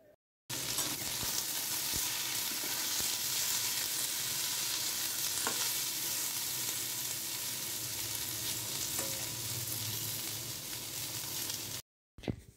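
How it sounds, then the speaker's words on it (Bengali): Beans, eggplant, potato and a piece of carrot sauté in hot oil with a loud, steady, close sizzle. A few faint clicks of stirring sound over it, and the sizzle stops abruptly near the end. "শিম, বেগুন, আলু, এক টুকরো গাজর দিয়ে ভালো করে তেলের মধ্যে কষে নেব"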